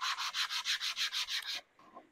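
Rhythmic back-and-forth rubbing of a wooden guitar bridge sanded across a domed form, about ten even strokes close up, then a softer scrape as the motion stops.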